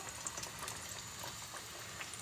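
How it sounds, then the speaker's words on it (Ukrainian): Chebureki sizzle in plenty of hot oil, a steady close crackle with scattered bright pops and bubbling and no voices. "От вони десь приблизно хвилинки три кіплять."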